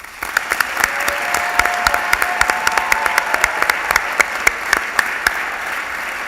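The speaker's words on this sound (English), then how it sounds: "Please join me in a round of applause for these terrific students" Sustained applause from a convocation audience honoring students, many hands clapping steadily at moderate volume with sharper individual claps standing out through the wash.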